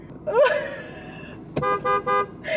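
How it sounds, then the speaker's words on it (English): A car horn honks nearby in a series of short, loud toots, three clipped blasts in quick succession following an earlier brief tone, with no talking over them. "She's honking at her and she doesn't see me."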